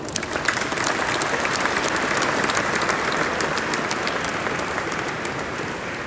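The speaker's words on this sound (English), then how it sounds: "I just invite everyone to give a round of applause for the State Partnership Program and the state of Oklahoma." Sustained crowd applause at an Azerbaijan Independence Day and Armed Forces Day event, dense even clapping from a large audience throughout, without pause.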